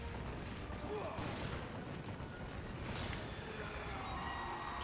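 Gunfire in the video game Resident Evil 5, a rapid, continuous burst of shots forming a dense, steady barrage of moderate loudness with no pauses.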